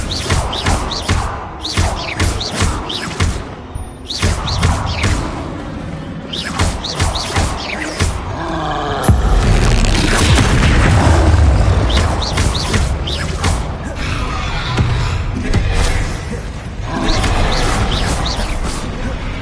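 Explosive Confringo and Bombarda spell blasts in Hogwarts Legacy, heard as repeated heavy thuds and booms during combat, one larger rumbling blast midway, close and loud amid a busy mix of battle effects.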